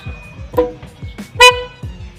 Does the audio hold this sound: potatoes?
no